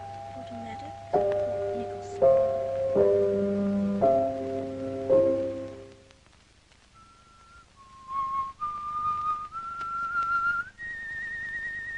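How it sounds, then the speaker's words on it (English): A person whistles a tune in a 1947 film noir scene, clear sustained pitched notes sliding between tones in the second half, preceded by chiming bell-like musical tones, fairly close and prominent. "What's that you're whistling?"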